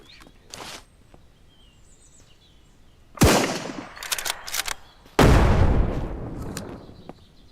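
Gunfire in the zombie survival game SurrounDead: after a few faint pops, a loud burst of shots rings out, followed by a heavy blast with a long rumbling decay.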